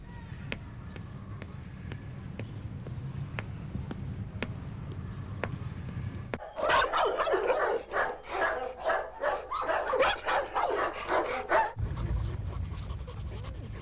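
Several domestic dogs pant steadily, then break into loud, close, overlapping barking and yipping for several seconds before the panting resumes.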